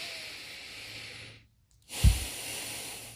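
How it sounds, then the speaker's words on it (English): Two deep breaths demonstrated at close range, a long hissing exhale that trails off into a brief silence, then a sharp, louder inhale or exhale with a snort-like burst, alone without speech. "at first I'll start deep breaths like"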